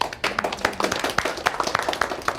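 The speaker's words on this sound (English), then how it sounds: "And I just applause for that." A person claps hands in applause: quick, uneven sharp claps repeating through the whole moment, fairly close, with no talk over them.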